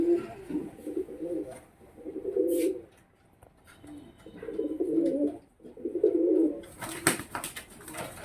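Pigeons coo in a pigeon sale setting, several low rolling coos in bursts with short pauses between, fairly close, plus a brief flutter or rustle near the end.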